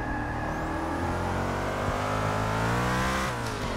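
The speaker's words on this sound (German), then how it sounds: "Ich mag das Gezischern. Ich will es so oft hören, deswegen gehe ich ganz, ganz oft vom Gas." Race car engine in Forza Motorsport 6 running steadily at high revs with a continuous loud whine and rumble, a slight hiss as the throttle lifts near the end.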